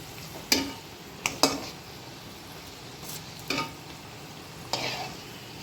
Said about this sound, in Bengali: জাল কম দিয়ে সবগুলোই ভাজা লাগবে, তাহলে উপরটা আগেই লাল হয়ে আসবে।